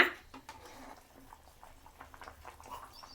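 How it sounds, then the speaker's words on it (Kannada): Cabbage pulao liquid at a boil in a pot, giving a soft, faint bubbling patter with light ticks, steady and close over a short stretch. "ಕುದೀತಾ ಇದೆ"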